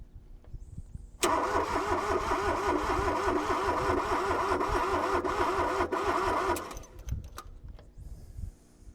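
Engine of a 2004 Kobelco SK13SR mini excavator, abandoned for seven years, cranks and catches after a second, running loud with a rhythmic knocking chug close by for about five seconds before cutting out, then faint rattles follow.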